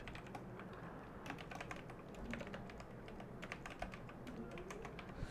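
Code is typed on a computer keyboard in quick, steady keystrokes, quiet and close, with no talking.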